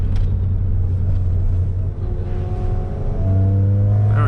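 Car cornering on twisty country roads, a steady low engine rumble and road drone heard from inside the cabin, with the engine note rising and revving toward the end.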